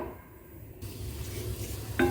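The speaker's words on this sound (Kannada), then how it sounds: "ನೋಡಿ ಇವಾಗ ಒಗ್ಗರಣೆ ಆಗ್ತಾ ಇದೆ ಸಾಸಿವೆ ಕಾಳೆಲ್ಲ ಚಟಪಟ ಅಂತ ಸೌಂಡ್ ಬರ್ತಾ ಇದೆ" Mustard seeds spluttering in hot coconut oil for a tempering: a steady soft sizzle with faint crackles close by, ending in a sharper metallic stir or clink, with no voices.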